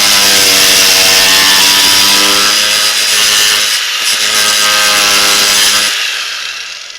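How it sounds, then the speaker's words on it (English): Stripped 5mm bolt on a 2013 Honda 420 Rancher ATV being slotted with a power cutting tool, a loud continuous whining grind holding steady for about six seconds before cutting off and trailing away. "I'm going to cut a screwdriver slot in it so I can turn it"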